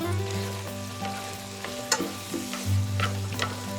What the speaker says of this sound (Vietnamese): Trộn lên và mình xào cho đến khi tôm chín và lên màu đều như thế này.